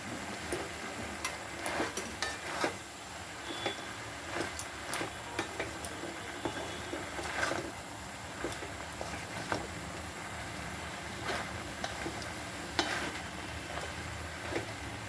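Dried fish curry with spices is stirred in a pan, a spoon scraping and clicking against the metal in irregular strokes over a constant low sizzle, close and fairly loud, with no speech.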